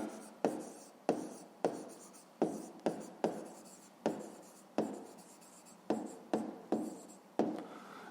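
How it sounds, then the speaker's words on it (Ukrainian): A pen writes on paper during a fifth-grade maths exercise, working out a rectangle's perimeter: a series of quick, sharp scratchy strokes in an uneven rhythm, close and fairly quiet, with no talk. "записуємо відповідь, пишемо відповідь"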